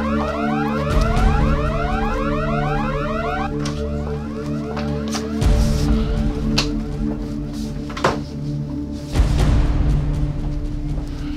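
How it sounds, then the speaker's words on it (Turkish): Perimeter alarms ringing through a secure building during a tense drama scene: a loud warbling siren repeats in rapid rising sweeps over steady electronic tones, then gives way to continuous droning alarm bursts that swell and cut back several times. "Çevre alarmları çalışıyor."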